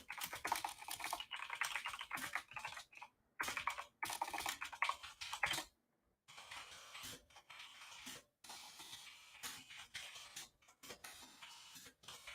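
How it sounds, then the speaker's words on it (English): Fast typing on a computer keyboard, close, dense bursts of clicking keystrokes broken by a few brief pauses, with no talk. "I'm typing something out."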